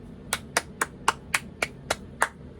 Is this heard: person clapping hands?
yes